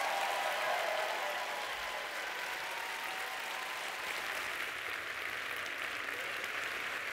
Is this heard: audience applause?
yes